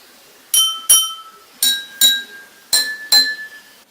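Drinking glasses holding different amounts of water, from nearly empty to full, are struck in three pairs of bright ringing clinks, each tone sustaining briefly, the pitch changing between pairs, loud and close with no talking.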